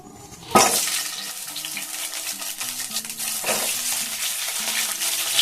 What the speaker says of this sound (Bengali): এখানে আমি বিরিয়ানির জন্য আলুগুলো ভেজে নেব